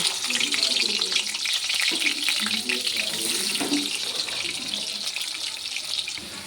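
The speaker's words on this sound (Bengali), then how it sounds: "কড়াই তেল দিয়ে দিয়েছি তেল গরম হয়ে গেছে এখন আমি আলুগুলো ভেজে নেব" Potato pieces fry in hot oil in a wok, giving a loud, continuous hissing sizzle that holds steady throughout, close up and with no voices.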